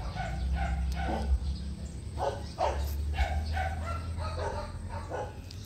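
Several dogs at a residence with a garden bark in short repeated bursts, some overlapping, at a moderate distance over a low steady hum of background noise.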